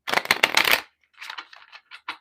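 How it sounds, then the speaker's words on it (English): A tarot or oracle card deck is riffle-shuffled up close, a loud dense burst of flapping card snaps followed by a few shorter, softer riffles in quick succession. "A lot of the times I don't shuffle like this with my cards because it's loud for people"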